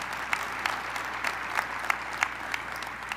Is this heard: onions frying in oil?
no